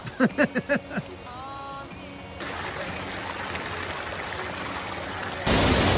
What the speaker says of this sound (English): Fall Creek Falls. She's roaring.